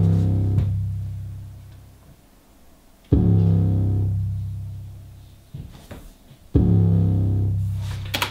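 Deep, sustained 808 bass notes boom alone in a slow pattern, long sliding tones separated by gaps, with faint clicks at each attack.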